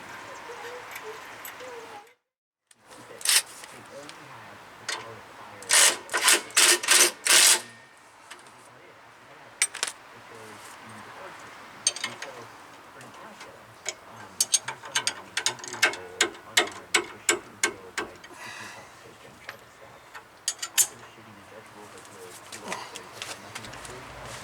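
Wrench ratcheting on a bolt of a 2004 Chevy 2500 Crew Cab truck, bursts of sharp metallic clicks close by, some in rapid runs, with a voice talking in between.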